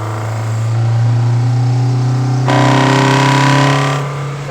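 Honda Civic Type R EK9 with its B-series engine revving hard, the tone sharpening abruptly as VTEC engages near 4,000 RPM, loud and close with a steady harmonic drone that rises into a brighter, fuller wail before easing off.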